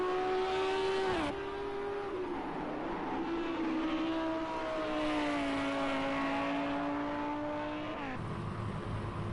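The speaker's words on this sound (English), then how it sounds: "Here we are with Jamie F430 in the 93 Lamborghini. Pushes it to the max through these corners" Racing engine of a 1993 Lamborghini in Project CARS 2 at Brands Hatch, a steady loud drone that dips and climbs through corners, with a sharp downshift near the start and another gear change toward the end.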